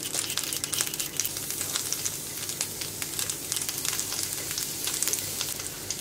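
Grated garlic sizzling in melted fat in a pan, a steady close crackle and hiss with dense fine pops throughout and no talking.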